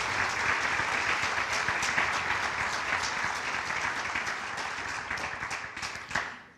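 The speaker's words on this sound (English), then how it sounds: "Give them a round of applause, please." An audience applauds inductees at a hall of fame ceremony with a dense, sustained round of clapping that fades toward the end.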